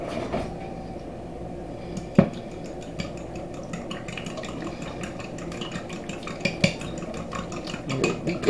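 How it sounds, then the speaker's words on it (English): Eggs being beaten in a bowl for pork fried rice, a fork or utensil tapping and stirring in quick irregular strokes with a few sharper clinks against the bowl, close and fairly quiet. "Beat that egg up."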